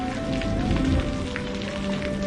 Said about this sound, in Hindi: जैसे ही बारिश तेज हुई